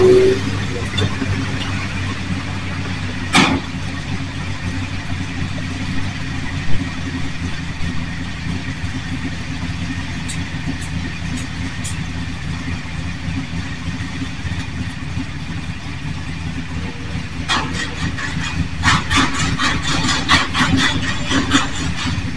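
Monster truck engines idle at a monster truck show, a steady low rumble carrying through the whole stretch with occasional sharp knocks and clatter over it.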